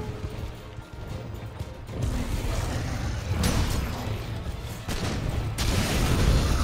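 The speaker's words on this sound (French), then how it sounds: "On refait un feu de viverne" Wyvern fire blast from Monster Hunter World Iceborne, loud booming bursts repeating over a dense game soundscape, with a heavy impact near the end.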